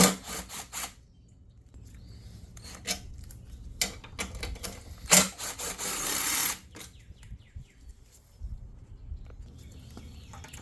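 Power tool running in short bursts while backing out three 10 mm bolts on a Ram 1500 front bumper, with a louder sustained whir midway, clicks and rattles of the fasteners between, close by in a garage-like space.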